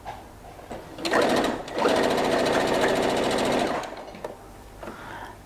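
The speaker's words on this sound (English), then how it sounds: "So it doesn't matter how much you press down on your footer, the needle won't go any faster than slow." A Brother A150 sewing machine stitching with a twin needle runs in a steady, rapid mechanical whir for about three seconds, starting and stopping between quieter pauses, close and loud with no talking.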